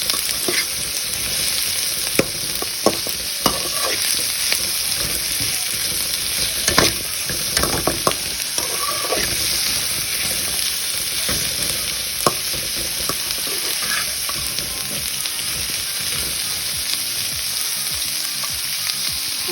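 Ingredients for a creamy white kurma masala sizzle and fry steadily in a pan, with frequent spoon scrapes and stirring clatters over a constant hiss, no voices.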